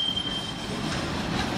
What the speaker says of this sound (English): And this train is going northbound.